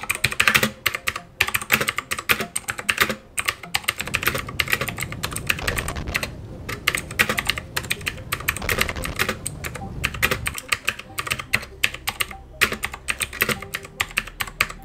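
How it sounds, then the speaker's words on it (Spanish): Keys of a Kananic L82 mechanical gaming keyboard clack in fast, uneven bursts of typing with short pauses, crisp and close. "vamos con una prueba de sonido del teclado"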